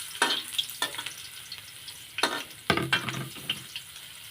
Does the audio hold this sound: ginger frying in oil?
yes